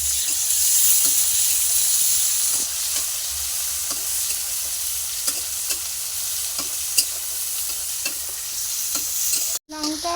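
Tomato and sautéed onion fry in a pan for a home chicken curry, giving a steady close sizzle with occasional scraping stir clicks. The sizzle runs alone with no talk, briefly cutting out near the end.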